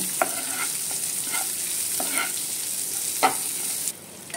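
Thinly sliced onions frying in oil toward reddish, a steady hiss with a few brief stirring scrapes, the sizzle dropping away near the end.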